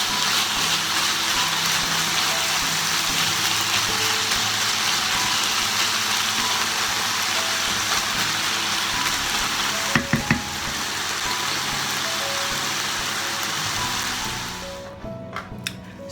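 Vietnamese pork caramelizing in a hot pan gives a steady, dense sizzle throughout, with a few brief clinks and scrapes of stirring partway through before the frying eases near the end.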